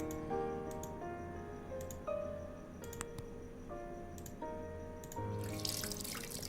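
Running water from a towel being soaked in ice water in a video game, heard as a steady tap-like flow with light drips and ticking clicks over a soft background drone.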